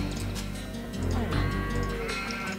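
Sheep in the Age of Empires II HD Edition strategy game give loud, layered bleating calls that overlap continuously, with dense game sound beneath.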